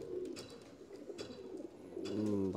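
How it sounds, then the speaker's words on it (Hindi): Pigeons cooing nearby in low, throaty repeated calls, a few overlapping coos over faint background noise. "ये देखिए एक ये कबूतर देखिए,"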